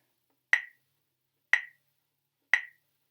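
Three crisp, evenly spaced metronome clicks sound one second apart, close and clean against complete silence.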